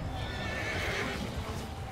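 Horses whinny and neigh on a crowded medieval battlefield in Mount & Blade II: Bannerlord, their calls rising over a dense, steady din of clattering hooves and combat noise, with no voices in the brief stretch.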